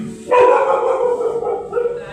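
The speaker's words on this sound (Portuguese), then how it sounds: "Até o cachorro se alegrou, tá vendo?" A dog gives a loud, drawn-out howling bark close by, followed by a shorter, quieter yelp.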